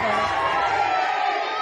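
Dense crowd of devotees at a Hanuman temple on Nag Panchami in Farrukhabad, gathered as a snake is present, making a steady, close murmur of many voices and shouts with no pauses.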